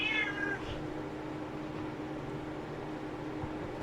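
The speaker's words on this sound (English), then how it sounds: "Meow. Meow." A cat gives one short, high meow near the start, fairly close, then quiet room noise with a faint steady hiss continues.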